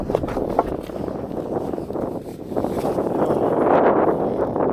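Wind blows steadily outdoors at a hilltop viewpoint near Bemelen, a loud continuous rumble buffeting the microphone and swelling stronger toward the end, with no voices.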